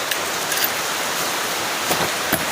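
Heavy rain falls outdoors in a steady, moderately loud wash of hiss with a few slightly louder gusts of drops.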